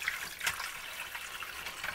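Water runs into a container being filled to clean tumbaga jewelry, a steady rushing and splashing flow that continues evenly without talk.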